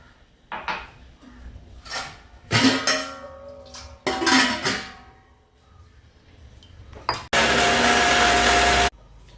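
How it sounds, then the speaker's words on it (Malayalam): A mixer grinder jar whirs loudly and steadily for about a second and a half, grinding leftover cooked rice with a little water, after a run of clattering jar and utensil knocks. "ഇത് മിക്സിയുടെ ജാറിലേക്ക് ഇട്ടിട്ട് നന്നായി അരച്ചെടുക്കുക കുറച്ച് വെള്ളം ഒഴിച്ചിട്ട് അരച്ചെടുക്കുക"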